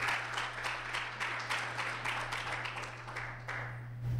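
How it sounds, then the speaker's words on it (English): Scattered applause from a conference audience after a speaker is introduced at Search Exchange 2011, fairly faint and rhythmic claps over a steady low hum. "So, big round of applause for David Kyle, everybody."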